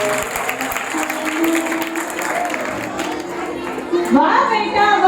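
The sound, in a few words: audience applause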